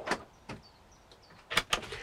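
Soft-closing drawers in a new high-spec Pilote Van V600G campervan kitchen being pushed shut, several quiet thuds and sliding clunks spaced across a couple of seconds, close and fairly faint.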